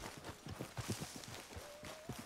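Rhythmic horse hoofbeats in the video game Red Dead Redemption 2 clop along steadily at a trot, fairly close, with a faint tonal whistle rising briefly partway through.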